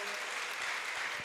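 Applause from a church gathering welcoming a visiting choir, a steady dense patter of many hands clapping at once, fairly quiet and with no voices over it.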